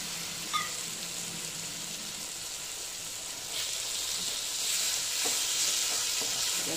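Water goes into a pan of ridge gourd poppy-seed curry, setting off a steady sizzle and hiss that swells partway through, with light stirring scrapes close by and no talk.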